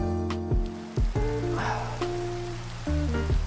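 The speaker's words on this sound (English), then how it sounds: "The rain is here once again." Steady rain hiss in a farm-building game, running as a soft continuous wash beneath tonal game music and chime-like notes, with no one talking.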